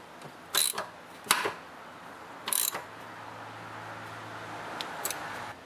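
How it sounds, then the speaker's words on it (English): A ratchet tightens the oil plug on a Toro lawnmower with several short, sharp clicking bursts spaced apart, close and fairly quiet against a faint steady hum. "now with your ratchet, you want to tighten up the plug"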